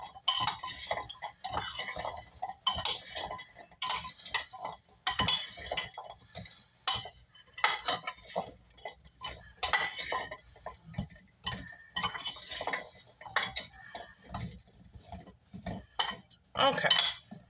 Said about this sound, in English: I'm going to take my spoon, and I'm going to give them a nice mix.